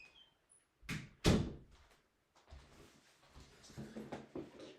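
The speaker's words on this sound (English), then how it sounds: "Let's close the door." A door is shut with a single loud thunk, followed by quieter room sounds and faint movement.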